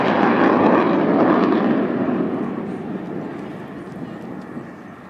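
An Avro Vulcan B2 bomber roars down the runway at an air show, a loud, broad jet rumble that slowly fades as it moves away. A commentator talks over it.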